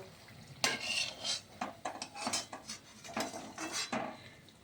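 Fried thankuni leaf fritters lifted from a pan, with a run of close metallic scrapes and clinks of a utensil against the pan over faint sizzling.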